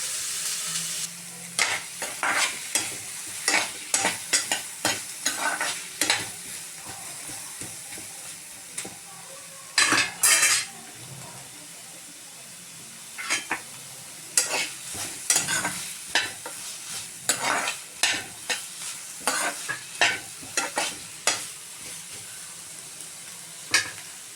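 A handful of curry leaves fries for pepper kulambu in a pan, a constant sizzle broken by repeated loud bursts of spatula stirring and scraping, close up, with no one talking.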